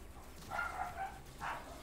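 A few short, yipping dog barks in two quick bursts, then a single bark, fairly faint against a quiet background.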